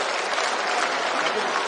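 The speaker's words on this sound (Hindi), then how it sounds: "सभी हमारे नेताओं के लिए जरा ऊपर हाथ उठाकर तालियां बजा दीजिए जरा" Steady, dense applause from a large crowd at a political event in Indore, India, continuous and fairly loud throughout without pauses.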